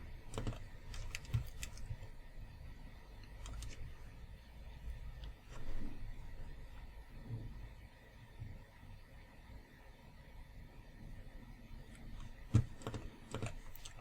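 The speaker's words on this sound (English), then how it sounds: "type in title, description of your product" Typing on a computer keyboard in a quiet room: faint, scattered keystrokes in short, uneven bursts with occasional louder clacks, heard close and alone.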